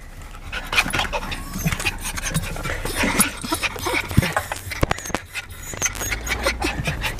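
Inside a car, a dog pants quickly and whimpers in short, uneven bursts close by, with small yips and shuffling movement throughout.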